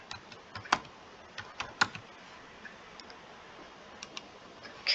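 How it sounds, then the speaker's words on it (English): Keys clack on a computer keyboard in short irregular bursts of close, crisp taps with brief pauses between them, no one speaking. "let me type"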